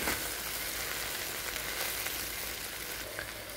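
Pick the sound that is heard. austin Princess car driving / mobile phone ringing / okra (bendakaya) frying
okra (bendakaya) frying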